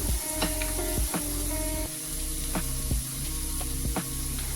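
Two medium onions sauté in a pan with ginger and garlic, giving a steady, soft sizzle broken by sharp clicks and scrapes of a spoon stirring against the pan at irregular intervals.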